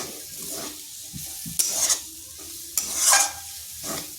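Grated coconut stirred in a pan over medium-low heat for coconut barfi sandesh: close, dry scraping strokes come in uneven bursts with quiet pauses between them, and no voices.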